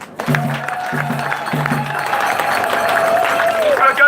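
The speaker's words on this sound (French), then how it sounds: "je demande vos applaudissements" Crowd applauding after a political speech following a march, clapping building into a sustained loud roar with voices mixed in, after a few brief rhythmic sounds at the start.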